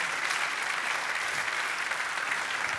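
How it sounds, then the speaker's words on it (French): A church congregation applauds for Jesus, a thick, continuous wash of clapping that stays loud and even from start to finish with no speech. "acclamation pour le roi des rois ?"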